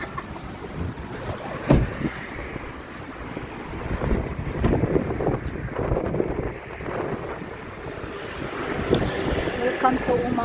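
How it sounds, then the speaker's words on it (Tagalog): Steady wind rushes and buffets the microphone in gusts, with low rumbling noise and a few louder bursts throughout. "Oh, mahangin ah."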